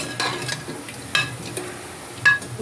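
Boti curry with meat masala and coconut gravy being stirred in a pan: close scraping strokes of a spoon against the pan, a few distinct scrapes over a soft, steady sizzle, with no talking.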